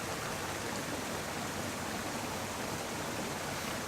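A wilderness creek flows steadily in the rain, a broad, constant rushing wash of water that holds an even level from start to finish with no voices.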